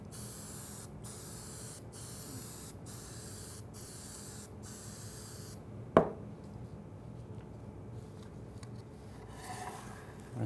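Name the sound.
spray adhesive being sprayed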